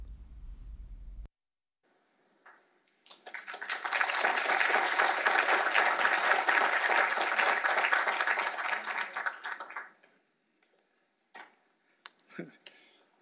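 An audience at a Heritage Foundation policy event applauds as a speaker is welcomed, a dense burst of clapping that lasts about six seconds and then dies away to a few stray claps.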